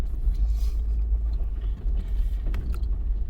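A vehicle in two-wheel drive grinds up a dirt hill, its engine a steady low rumble with some tire and gravel noise over the top.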